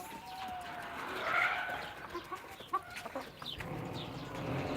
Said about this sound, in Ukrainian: Кури біжать.